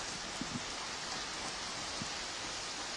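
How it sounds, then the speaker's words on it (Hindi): Heavy rain pours down in a steady, dense hiss at an outdoor protest sit-in, constant throughout with no voices. "लग रहा है कि वहां पर झमाझम बारिश हो रही है।"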